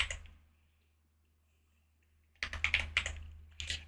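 Typing on a computer keyboard: a pause of near silence, then a quick burst of sharp, close key clicks with a few isolated taps, fairly quiet.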